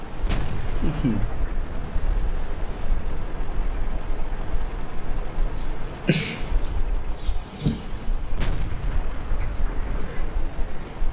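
Tank cannon shots in World of Tanks, a few sharp booms scattered over a dense rumbling battle background, with voices faintly underneath.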